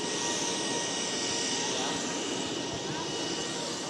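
An aircraft engine roars at Silangit airport in North Tapanuli, a loud, steady, dense roar that fills the whole stretch without letting up.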